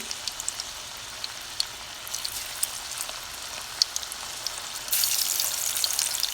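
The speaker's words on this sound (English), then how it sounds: "After 10 minutes I am going to deep fry the bittergourd." Bittergourd pieces deep frying in oil in a pan over a medium flame give a crackling sizzle with scattered pops, growing louder and denser near the end, with no voices.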